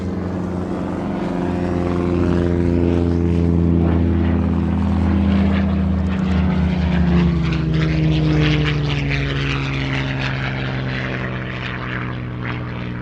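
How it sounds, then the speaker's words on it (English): An SE5A biplane taxis at an air show with a loud, steady propeller drone and engine rumble close by, its pitch shifting slightly as it moves past. "The SE5A just taxiing over, rarely seen these days."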